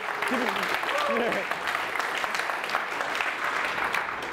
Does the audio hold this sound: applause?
yes